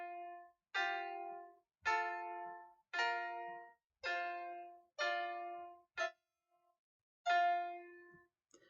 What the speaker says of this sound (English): all put in a harmonic interval together with F